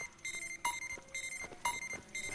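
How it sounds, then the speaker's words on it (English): Countdown beeps from the Fortnite video game repeat in an even rhythm, a bright electronic tone sounding roughly twice per second, faint and alone. "That beeping's the countdown."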